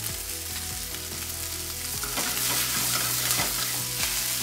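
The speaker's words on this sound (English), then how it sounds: "Continue to fry for a further 2 minutes, then add only the thick parts of the spring onion." Chicken and the thick parts of spring onion fry in a pan with a loud, steady sizzle. Periodic scraping stir strokes cut through the sizzle, and no voices are heard.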